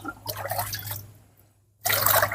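Roughly two litres of water poured into a container for a homemade chemical-free vegetable growth mix, heard as a broadband splashing stream, a brief lull, then a louder resumed pour over a steady low hum.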